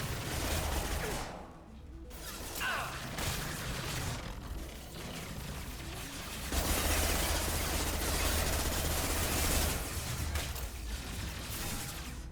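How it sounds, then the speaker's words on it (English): Gunfire in the Mass Effect 2 video game, a gun spraying rounds in dense, noisy bursts with crashing impacts that rise and fall over several seconds, loud and continuous with no talking. "It does shoot ammo, like, all over the place."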